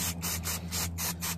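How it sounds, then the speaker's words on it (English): Brake cleaner sprayed from an aerosol can onto an oil filter during an oil change on a GY6 scooter engine, heard as steady close hissing broken by several short bursts over a low mechanical hum. "So, just give it a good spray, get them all in there."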